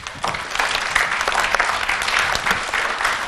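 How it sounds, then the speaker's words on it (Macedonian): Audience applause fills a school event, a dense, steady clatter of many hands clapping continuously at close range with no speech over it. "Аплауз!"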